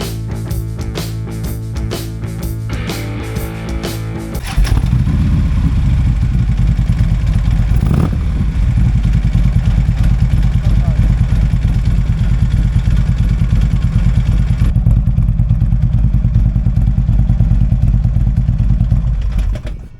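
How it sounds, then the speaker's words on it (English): A Harley-Davidson motorcycle engine runs steadily and loud after an opening burst of other sound, a rumbling idle with a rhythmic mechanical clatter that fits a worn clutch hub bearing, with no talk over it. "Sounds like the clutch hub bearing to me."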